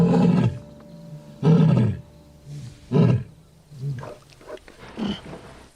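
A lion roars in a series of deep, heavy bursts, loud and close, each roar followed by softer grunting breaths.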